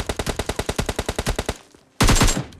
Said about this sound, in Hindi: मेरे को AKM की आवाज़ आजकल काफ़ी इरिटेट करती है